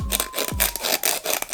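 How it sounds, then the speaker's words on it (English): Sandpaper rasps back and forth under firm pressure in steady, close strokes, about six even rubbing passes in quick rhythm with no talking. "I hold my two sides of the sandpaper like so, back and forth, and I just start going back and forth while applying some pressure"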